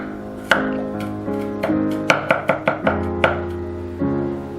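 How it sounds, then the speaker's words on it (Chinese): A knife chops three garlic cloves on a board in a quick run of about a dozen crisp, close taps, some spaced and some in fast succession, over soft background music. "蒜3瓣，同样切碎。"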